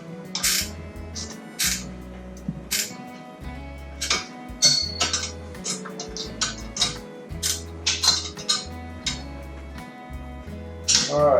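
Gear wrench ratcheting while tightening bolts on a Dewalt DWE74911 table saw stand, short bursts of quick clicking separated by pauses, close and moderately loud, with low thuds in between.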